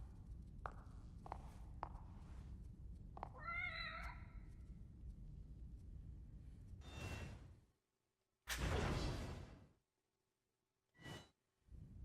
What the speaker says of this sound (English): There's just something about a video game cat.